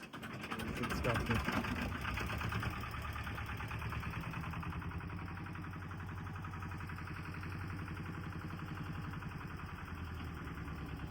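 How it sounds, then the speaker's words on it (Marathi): A steady, rumbling fishing boat engine idles continuously at close range before heading out to sea, with a constant mechanical throb throughout. "आता आपला बोटीचा इंजिन स्टार्ट झालेला आहे"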